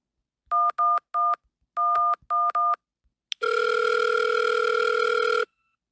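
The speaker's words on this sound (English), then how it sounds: "let's go ahead and call the phone number." A phone number is dialed in the video game Elmwood Trail: a series of crisp, loud touch-tone beeps in two quick groups, followed by a sustained ringing tone.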